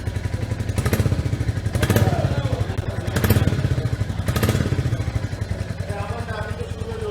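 Royal Enfield Black Battalion motorcycle idling with its stock exhaust: a steady, low, thumping engine pulse close by, with a few brief louder bursts and no clear talk.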